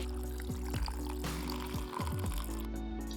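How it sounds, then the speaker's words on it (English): Water pours steadily into a shaker bottle, a close, continuous splashing fill with a rising gurgle and a few sharp plastic knocks, heard alone without talking. "Now, I'll first put the water into the shaker bottle"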